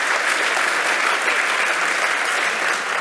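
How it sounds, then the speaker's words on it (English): Steady, dense applause from a conference audience fills the room, continuous and even throughout with no voices over it. "So, round of applause for Jan."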